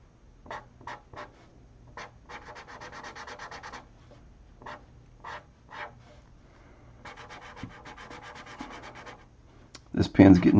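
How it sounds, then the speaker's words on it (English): A drying pen scratching across paper while drawing Batman, close and crisp, with short repeated strokes and longer raspy scribbling runs, ending in a louder rustle. "This pen's getting dry. I can see it, you can see it, and you can hear it."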